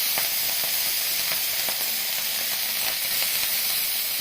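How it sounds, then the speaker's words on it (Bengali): Dried lote fish, Bombay duck, frying in hot oil: a loud, continuous hissing sizzle with faint crackles and pops throughout, close by and with no voices. "একটু ভেজে নেব।"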